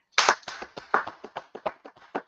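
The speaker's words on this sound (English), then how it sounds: "Let's clap it up for that." A small group claps at a sermon on God's chosen people: about a dozen sparse, uneven hand claps that start loud and close, then thin out and fade in rhythm over two seconds, with no voices over them.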